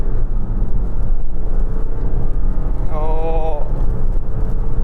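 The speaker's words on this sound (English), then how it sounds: "let's test the acceleration of this 2-litre diesel in this D200" A Range Rover Velar D200 with a 2-litre diesel pulls hard from a standing launch, its engine roar loud and steady throughout, with a rising tonal whine partway through and a brief exclamation from someone inside.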